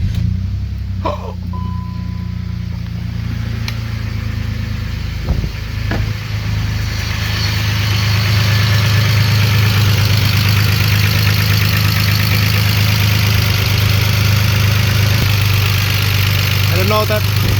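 A BMW X5 with a previously blown engine idles after fresh oil, a loud steady low rumble close by with a slight valve noise and a few brief knocks and clicks.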